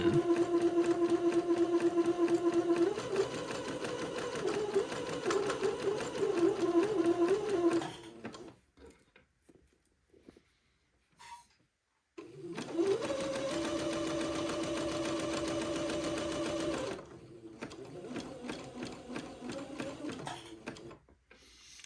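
A sewing machine runs a zigzag stitch along lace, steady mechanical whirring with a humming tone, stopping for a few seconds of near quiet before starting up again for another long run.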